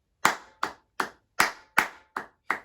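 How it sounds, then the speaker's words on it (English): Seven sharp hand claps ring out at an even, slow pulse, a class of students clapping a counted rhythm together during a music lesson, each crisp clap decaying quickly into a quiet room. "So let's all clap number 5 together with the accents."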